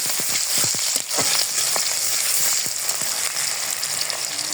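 Onions sizzle in hot oil in a wok, a continuous close crackle with scattered sharper pops and occasional stirring, no speech.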